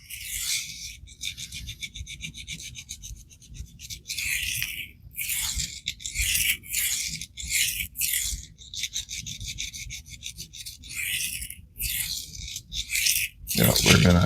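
A Cold Steel EDC knife of 4116 Krupp steel drawn across a THLEITE whetstone, giving repeated bright raspy scraping strokes in an uneven rhythm, close and fairly loud, with brief pauses between passes.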